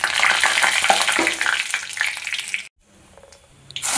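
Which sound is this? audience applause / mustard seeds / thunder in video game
mustard seeds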